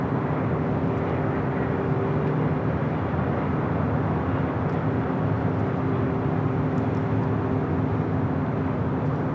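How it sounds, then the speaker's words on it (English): An Emirates A380 airliner arriving on the north side at Los Angeles LAX, a loud steady jet roar with low engine hum held throughout, nearby and unbroken. "We do have that Emirates A380 Super number 3 for arrival here on the north side"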